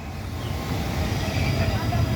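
A Bogor Commuter Line electric train rolls past with a continuous, loud rumble and roar. People talk over the noise.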